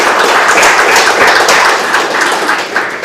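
A group claps for a returning football team, a dense, continuous patter of many hands at close range that stays fairly even throughout.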